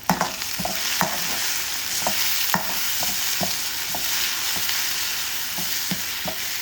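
Onions frying in oil toward golden brown hiss with a strong, steady sizzle, punctuated by regular sharp clicks and taps of stirring against the pan, close and fairly loud, with no voices.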